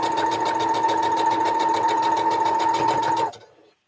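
A sewing machine stitches fabric beside a marked line, a steady rapid mechanical whir with a constant pitch that runs evenly and then cuts off, with no talking.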